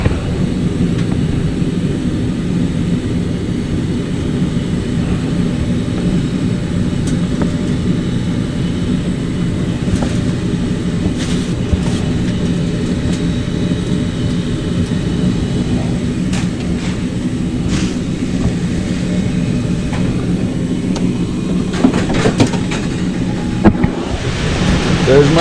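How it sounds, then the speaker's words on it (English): A household furnace blower fan runs steadily after the igniter and flame come on, a continuous low broadband whoosh that holds at an even level throughout with no breaks. "There's my blower."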